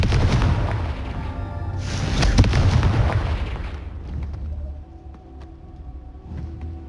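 Confringo fire spell explosions in the video game Hogwarts Legacy, a loud booming blast with crackling debris that swells around two seconds and then fades, followed by softer scattered pops.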